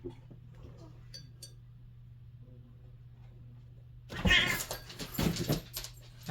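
A cat meows loudly and close by in a quiet indoor room during acrylic ink painting, a short cluster of cries after several seconds of near-silence and faint hum.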